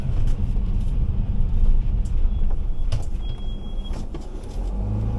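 A 9m motorhome is manoeuvred into a parking spot, a continuous low engine rumble with road noise and a few faint clicks and knocks, fairly loud and with no speech.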